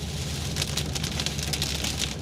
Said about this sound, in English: so the rain got louder